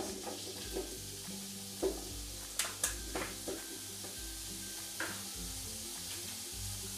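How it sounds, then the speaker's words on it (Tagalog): Pancetta sizzles in a pan with a quiet, steady frying hiss, broken by a few sharp clicks and scrapes of stirring, while soft background music plays underneath. "ilagay na natin yung pancetta natin guys"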